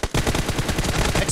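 Rapid automatic gunfire from the video game PUBG in a team deathmatch, a dense, loud, steady stream of shots roughly eight per second that continues without pause.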